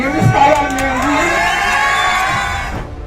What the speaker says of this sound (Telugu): వేలాది మంది రైతులు గొంతెత్తి అరుస్తున్నారు